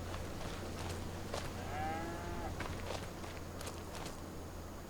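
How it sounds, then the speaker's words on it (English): Cattle mooing in the farming game Farming Simulator 25, a drawn-out tonal low from a single cow near the middle, heard over a steady farmyard ambience with faint footstep-like rustles. "Here is our cows."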